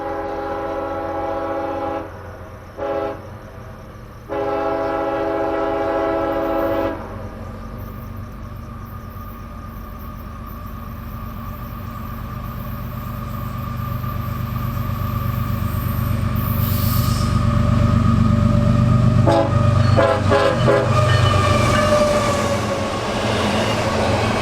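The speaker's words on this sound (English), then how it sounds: "Rolling north under the light of a full moon would be I-17826, intermodal out of the Winter Haven Logistics Center, bound for Jacksonville" An intermodal freight train rolls north at night through central Florida, sounding a long, loud horn with brief breaks before the steady rumble and rattle of passing cars swells and fills the rest of the pass.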